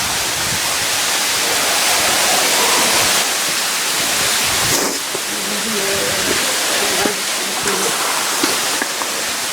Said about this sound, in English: we hope you all enjoyed that little waterfall there